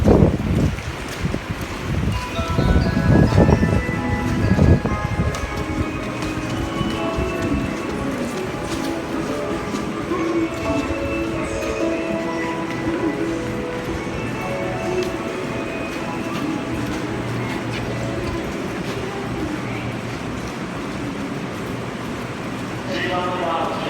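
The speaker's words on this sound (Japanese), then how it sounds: "この列車はのぞみ15号博多行きです。" A Nozomi Shinkansen bullet train to Hakata, heard from inside the cabin as a steady low rumble and rushing noise, with a louder jolt at the start and onboard announcements over it.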